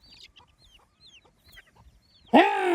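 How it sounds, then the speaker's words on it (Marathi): Chickens cluck and chirp in short, scattered calls while pecking grain, then one bird lets out a loud, harsh squawk near the end. "बघा आता कोंबडी दाना खाते ते"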